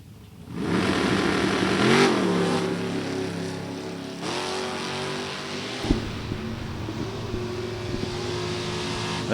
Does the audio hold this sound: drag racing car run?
yes